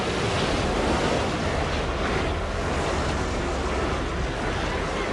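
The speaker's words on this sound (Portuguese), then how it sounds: "Um terremoto de 9 graus de magnitude libera uma parede de 10 metros de água." Heavy crashing surf of a massive tsunami wall of water, a loud continuous roar of breaking waves with wind-like rushing noise throughout, no voices.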